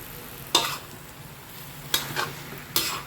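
Pork, meatballs, enoki mushrooms and napa cabbage are stir-fried in a pan, a low sizzle broken by three sharp scraping strokes of the spatula.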